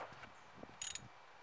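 A ratchet wrench tightening the rocker assembly on a Volvo 122 Amazon engine: a quiet, short burst of a few quick metallic clicks, close but faint, otherwise near silence.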